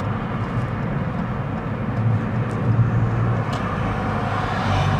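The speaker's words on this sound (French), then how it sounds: "J'aime beaucoup ton bruit de turbo." A 200 hp car engine drones steadily at night with turbo whine, a continuous loud low rumble that swells slightly midway, with no talk over it.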